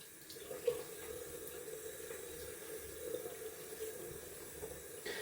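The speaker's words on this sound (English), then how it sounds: "I'm gonna add some cold water to the face." A bathroom tap runs steadily into a sink during a wet shave, cold water splashing in a continuous close, moderate stream with no talking.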